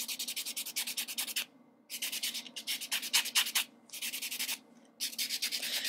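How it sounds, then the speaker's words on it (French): A fingernail surface being buffed before polish goes on: close, steady rapid scratchy rubbing strokes in bursts of about a second, separated by short pauses, with no talking. "je dépolis la surface"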